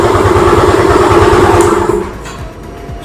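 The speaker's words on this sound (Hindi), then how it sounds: "जैसे कि देख सकते हो हमारी बाइक अब इजीली स्टार्ट हो पा रही है।" A Yamaha FZ V3 motorcycle engine starting and idling with a steady, loud, rhythmic chug that drops off toward the end after about two seconds.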